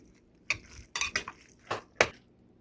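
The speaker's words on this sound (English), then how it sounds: "we're going to use the springform pan for this one." Metal springform pan handled in a home kitchen while preparing a spinach and sausage quiche, giving several sharp clanks and clinks spaced irregularly, close and fairly quiet.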